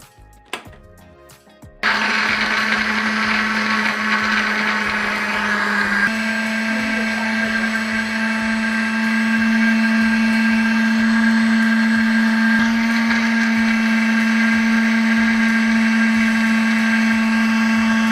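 A kitchen blender whirs loudly as it blends cold coffee with ice. After a brief rattle of ice it starts up into a sustained high motor whine, shifting pitch slightly as the mix smooths, with no talking.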